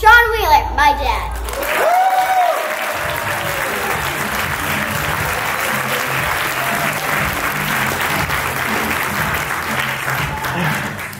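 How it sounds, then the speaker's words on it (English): Audience at a talk applauding Sean Wheeler, a hypnotherapist, after his daughter introduces him; a voice briefly at the start, then loud sustained clapping that holds steady to the end. "let's give a big round of applause for Sean Wheeler, my dad"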